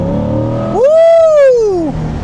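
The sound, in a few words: Chevrolet C8 Corvette engine revving while driving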